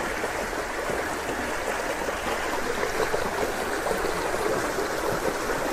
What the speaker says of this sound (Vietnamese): Dòng suối ở đây chảy rất là mạnh